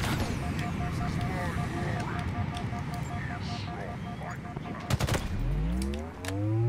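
Enemy gunfire in Halo Infinite crackles in rapid bursts under dense battle ambience, with a sharp cluster of shots near the end and vehicle-like whooshing rising afterward.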